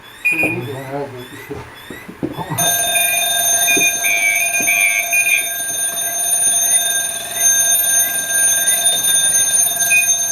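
A firefighter's air pack sounds its low-pressure alarm: after a brief voice, a loud, continuous high-pitched electronic ringing starts and keeps going, with a warbling chirp layered in, close by.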